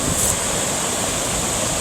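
A river runs beside Chimney Rock Village in North Carolina, a steady, loud broadband rush of flowing water with no pauses, close to the microphone and with no one talking.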